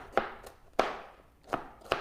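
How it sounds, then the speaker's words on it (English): Knife strikes a cutting board in four sharp, separate chops, unevenly spaced, while food is cut for beef chow; the chops are close and crisp with quiet pauses between them. "I want to get this chopping, and then I'm going to start cooking"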